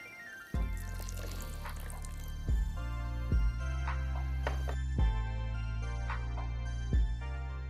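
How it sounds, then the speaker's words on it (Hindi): Water is poured and stirred into ragi pancake batter in a bowl, giving soft wet drips and squishy sloshes at a slow, uneven rhythm, heard close up with no talk. "अब हम इसमें थोड़ा पानी बढ़ा लेते हैं।"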